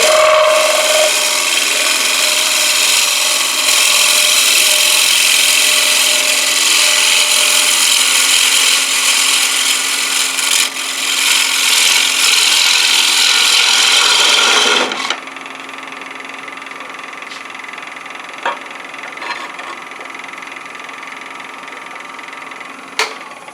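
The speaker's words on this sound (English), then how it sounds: "I'm just going to ease up until I get the cutting edge making contact, and then I'm going to start making my feed." Turning tool cutting a wooden bowl on a lathe, a loud continuous rasping scrape for about fifteen seconds that stops abruptly, leaving the quieter hum of the spinning lathe with a few faint clicks.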